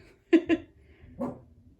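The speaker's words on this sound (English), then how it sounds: "Sorry, guys. My dog." A pet dog gives two quick barks close by, then a softer, breathy woof a moment later, in an otherwise quiet indoor room.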